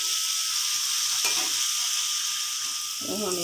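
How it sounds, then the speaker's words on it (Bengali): Cumin, chopped ginger, garlic and onion stir-frying in oil give a steady, close sizzle with brief bursts as the pan is stirred, and a faint tonal sound near the end. "এরপর দিয়ে দিয়েছি জিরা, আদা কুচি, রসুন কুচি ও পেঁয়াজ কুচি। এবার নেড়ে চেড়ে হালকা করে ভেজে নেব।"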